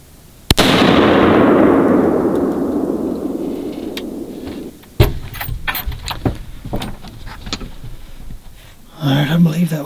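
A single loud rifle shot fired at a deer on a Mississippi hunt, a sharp crack followed by a long rolling echo that fades over several seconds, then quiet rustling and small clicks, with a voice briefly at the end.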